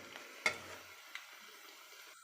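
Buttermilk-soaked okra frying in hot oil gives a faint, soft sizzle, broken early by one sharp utensil clack and a lighter tap a moment later.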